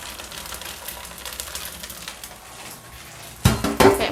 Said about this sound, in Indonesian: Pretek ini loh yang bikin nyiprat-nyiprat.